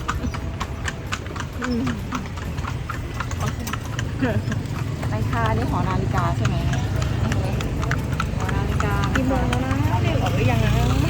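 Horse hooves clip-clop steadily on a town road as a horse-drawn carriage rolls through Lampang, northern Thailand. The hoofbeats are even and close, with continuous conversation over them.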